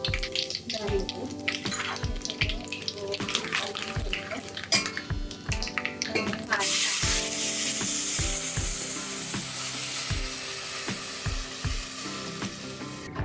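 Mustard seeds, cumin, turmeric and coriander temper in hot oil for a maswadi rassa, with sharp pops and crackles at first that give way to a louder, continuous hiss and sizzle.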